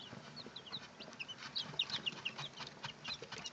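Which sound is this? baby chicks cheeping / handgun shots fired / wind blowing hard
baby chicks cheeping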